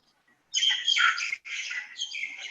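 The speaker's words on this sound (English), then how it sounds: "Original birds." Birds chirping and tweeting outdoors among old buildings in Old Jaffa, Israel, a busy cluster of bright, overlapping calls close by that starts after a brief silence, dips once and carries on steadily.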